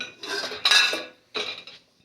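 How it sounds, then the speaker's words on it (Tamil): Dishes and cutlery being taken out of a home dishwasher in the morning, three close bursts of bright metallic clinking and rattling with short pauses between them. "நைட்டு வந்துட்டு பாத்திரம் டிஷ்வாஷரில் போட்டுட்டேன் காலையில் தான் எடுக்கிறேன்"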